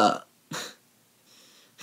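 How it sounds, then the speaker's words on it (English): Two short, loud burps about half a second apart, close to the mic, with quiet gaps and a faint murmur between them, a third starting at the end. "Lovely burping."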